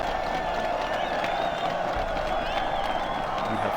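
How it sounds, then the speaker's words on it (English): Slow round of applause from a crowd in the Warlords Battlecry II video game, a continuous wash of clapping and cheering heard over a sustained musical tone. "that is the slow round of applause"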